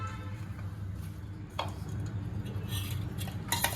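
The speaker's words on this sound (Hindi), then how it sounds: "अब दूध में जो चीनी को भिगो कर रखा है वो थोड़ा थोड़ा डालेंगे, मिलाएंगे, फिर डालेंगे, फिर मिलाएंगे" Sugar-soaked milk being mixed into wheat flour dough for thekua produces soft scraping and clinking of a utensil against a bowl, a low continuous stirring texture with a few sharper taps, close and fairly quiet, no talk.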